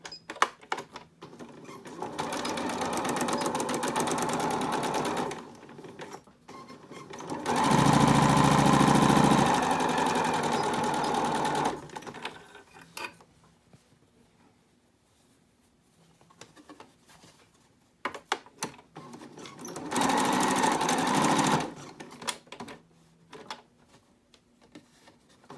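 A sewing machine stitches the lining of a fabric face mask in three separate runs of steady mechanical whirring. The first two bursts are each several seconds long, the last is shorter, and quiet pauses fall between them.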